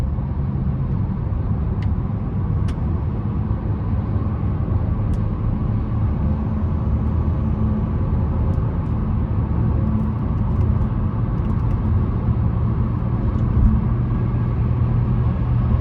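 A 2025 Buick Encore GX Preferred builds speed on the road, its steady low engine and road rumble holding at an even loudness throughout, with no voices.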